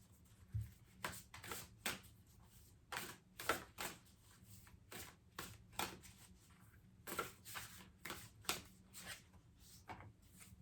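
Oracle cards are shuffled close by in a quiet room, making a series of soft, rhythmic riffling bursts roughly every half second with short pauses between them and no voices.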